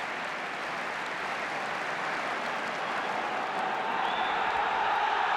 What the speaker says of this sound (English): the Kop, over to our right, salutes Bob Wilson as Bob McNabb claps him there as well